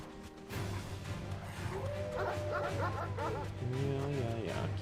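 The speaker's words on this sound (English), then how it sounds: "Keep barking." Dog barks and yips from a Final Fantasy XVI game scene, repeated in quick bursts over steady game music and ambience, with a voice talking at times.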